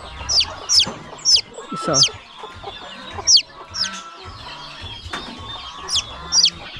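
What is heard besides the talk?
hens clucking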